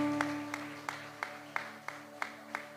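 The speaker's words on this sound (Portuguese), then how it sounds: "Vamos aplaudir ao Senhor pela vida da Isabelle." Faint, evenly spaced claps in a church, about three a second, keeping time over a soft sustained keyboard chord.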